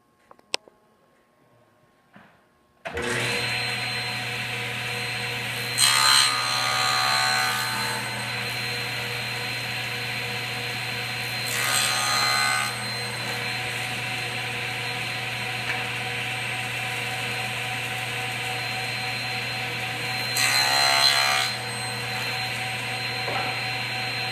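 A table saw cuts 45-degree mitres in lumber: a steady, loud motor drone starts after a few quiet seconds, and three brief, brighter surges mark the cutting passes.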